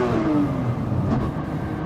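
A 1400-horsepower AMS Performance Alpha 12 Nissan GT-R accelerates with a failing rear differential, a strained drone carrying a whine that falls away over a brief moment.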